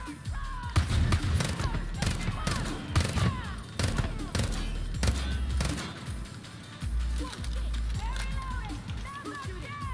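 Gunfire in the video game Far Cry New Dawn, bursts of shots rattling through a busy, loud firefight with running footsteps, while a player's voice talks over the action.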